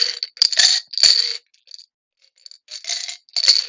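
Dice rattle in a dice jar during a search for a D4, close bursts of clicking and clattering that stop briefly and then start again, with no talking.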